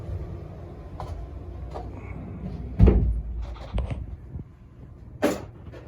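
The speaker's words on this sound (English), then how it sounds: "so now the door is on the rack. So that's the back view. And then close it." Rumble of a heavy sliding barn door rolling along its track, then a thud as it shuts, with a few softer knocks afterward.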